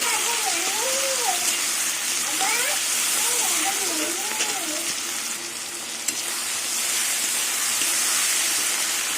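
Prawns fry with onions in a hot pan, giving a loud continuous sizzle like steady rain; a voice sings or speaks over it in a wavering melodic line during the first half.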